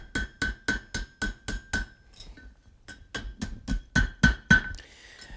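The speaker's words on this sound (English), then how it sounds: "to make that little hook, I'm just going to flare one end. Come to the horn of the anvil." Hot steel is hammered on the horn of an anvil to flare a hook end: a steady, ringing series of loud, sharp hammer strikes with a short pause partway through.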